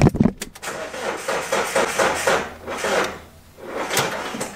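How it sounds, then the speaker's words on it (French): Fiat Ducato van engine cranking over on a weak battery, a rapid mechanical churning with rhythmic pulses that sags and surges several times without catching, close and fairly loud. "insister pour essayer de démarrer"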